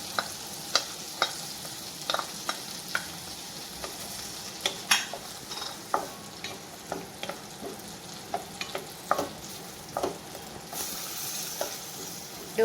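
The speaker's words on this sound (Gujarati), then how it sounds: "બટર સેજ ઓગળે એટલે આપણે ડુંગળી એડ કરી દઈશું" Chopped onion sizzles in melted butter in a pan for tomato-puree Maggi noodles, with a steady crackle punctuated by frequent sharp scraping stir strokes, close and moderately loud, no voices.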